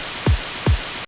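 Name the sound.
white noise from Serum 2 synth, triggered with kick drum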